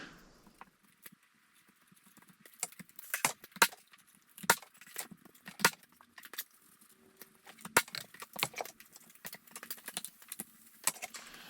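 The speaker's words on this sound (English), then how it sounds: "Put a few brads in this to hold it in place" Brads being driven into wooden interior window trim in a pole barn make a quiet run of sharp, irregular knocks and taps. The hits come in close clusters with brief pauses between them, and no one speaks.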